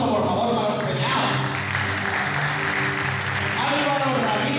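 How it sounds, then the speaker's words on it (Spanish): Audience applauding award winners at a solidarity gala, clapping running under an amplified announcer's voice and music-like tones, loud and continuous throughout. "Un aplauso, por favor, para los premiados."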